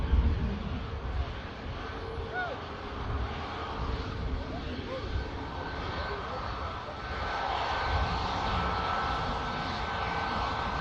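Boeing 737 MAX jet engines spooling up during a takeoff roll at Manchester Airport, a steady broad roar heard from a distance that swells slightly toward the end, with faint talk underneath.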